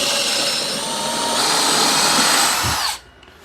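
Power drill boring a hole in wood for a homemade wooden wine rack, a loud, close, continuous whirring grind that rises slightly in pitch, then stops abruptly near the end.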